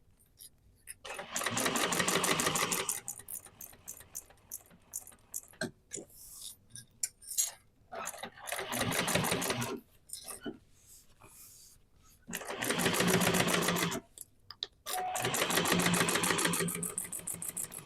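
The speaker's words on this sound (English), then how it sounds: "I'm going to go in with a second row of top stitching beside the first row." A sewing machine top stitches a John Duffel bag in long, loud, rapid runs with short pauses between them, while a person talks in the quieter gaps.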